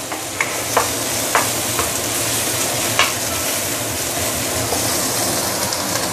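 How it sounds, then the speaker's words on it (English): Garlic, ginger and green onion sautéing in a pan for prawn noodles, a steady broadband sizzle with a few sharp clacks of a utensil stirring against the pan, close and continuous with no talking. "So you want to saute garlic, ginger, and green onion for probably a minute or so."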